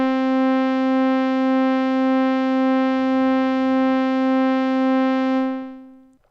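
FM synth tone with the modulator detuned from the carrier, slowed to half speed: a steady, bright, harmonic-rich drone with a slow wobbling beat between overtones, held for about five seconds before fading out, with no talk.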